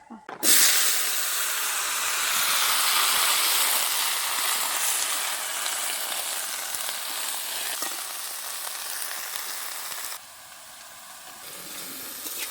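Oil and black nigella seeds sizzle loudly in a hot wok, a dense steady hiss that holds strong for about ten seconds before dropping to a softer sizzle near the end, with no voice over it.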